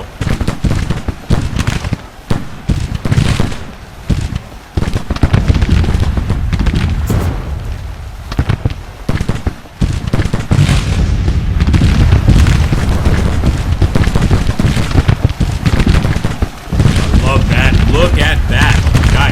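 Musket volleys in a Grand Tactician Civil War battle, loud crackling bursts of massed gunfire rolling continuously with booming shots, while someone talks over the fighting.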